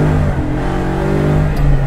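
A 1967 Ford Mustang Fastback with a swapped Coyote V8 revs loudly and close, its steady deep engine drone rising slightly with no talk over it.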